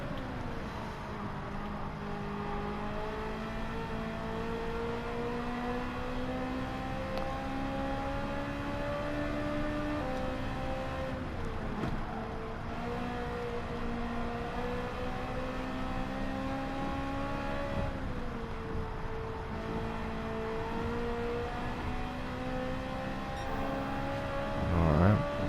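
A Ferrari F430 racing car in a video game, its engine droning and revving steadily through gear changes as it takes corners, with a brief surge of acceleration at the end.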